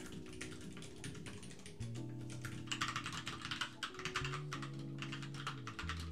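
Typing on a low-profile mechanical keyboard with red switches, a soft, fast, even patter of keystrokes with a low tonal hum underneath and no talking.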